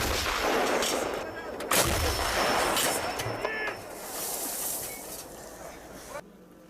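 Heavy booming blasts from a 2S7M Malka 203 mm self-propelled howitzer firing, loud and close, with a roaring wash of noise filling the stretch before cutting off abruptly.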